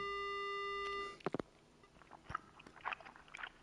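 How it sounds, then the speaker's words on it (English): A steady telephone dial tone from a payphone in the video game Spirit Hunter: Death Mark hums for about a second, then cuts off abruptly, followed by scattered clicks and soft, wet crunching noises. "The only sound I hear is the dial tone."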